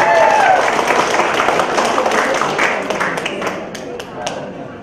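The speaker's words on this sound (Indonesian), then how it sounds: "Tepuk tangan dulu buat sahabat sekalian" Applause from a seated audience of farmers at an Indonesian agricultural gathering, a dense wash of clapping starting loud and slowly thinning over several seconds, with a voice murmuring beneath it.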